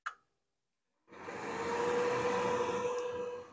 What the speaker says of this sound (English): So the unit's going to do a pre-purge by turning on the venter motor.